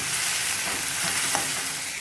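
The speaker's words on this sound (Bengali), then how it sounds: "চিকেন ফ্রাই করবো" Chicken leg pieces coated in ginger-garlic spice paste fry on a hot tawa, a dense, constant close sizzle with a faint clink near the middle, no talking.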